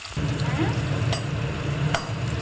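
Elephant foot yam pieces sautéing in plenty of oil for a spicy tamarind curry, a loud continuous sizzle with two brief scraping stirs, no voices.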